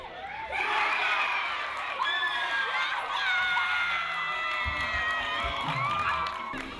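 Vocal crowd cheering and shouting at a baseball grand final, a sustained loud roar of voices with whoops and children's shouts, continuous for several seconds with scattered thumps underneath.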